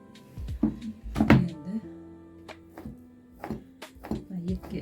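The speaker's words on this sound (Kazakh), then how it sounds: "Бұны да қиярымды да осылай турап алдым." Knife chopping cucumber on a cutting board, a series of irregular sharp thunks close by, some quick pairs and gaps between, with soft background sounds.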